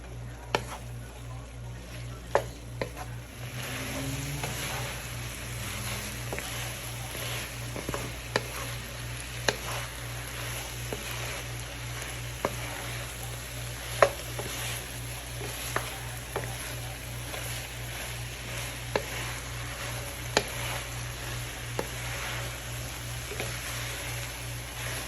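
Vegetables and turkey sausage sizzle in a stir fry with carrots, broccoli, cauliflower, onions and green peppers, a steady close frying hiss broken by scattered sharp taps and clinks of stirring, with a low hum beneath.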